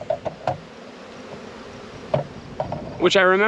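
Honey bees drone steadily at an opened hive with frames exposed, punctuated by a few soft knocks, then a louder, close buzz swells at the end.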